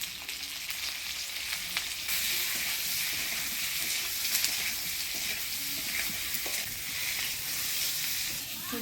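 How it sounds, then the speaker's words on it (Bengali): Sojji kochu (taro) frying with turmeric and salt in a hot pan, giving a steady, close sizzle that runs throughout with no talking. "সজি কচুটা ভাজা ভাজা করে নিলাম"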